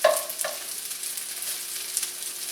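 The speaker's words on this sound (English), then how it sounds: "Everything's getting a good sear to it. Just trying to break up the rice a little bit." Pork fried rice sears in a hot, toasty pan as a utensil breaks up the rice, giving a continuous hissing sizzle with a few sharp scraping clicks near the start.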